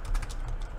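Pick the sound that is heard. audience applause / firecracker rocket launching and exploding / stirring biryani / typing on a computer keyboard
typing on a computer keyboard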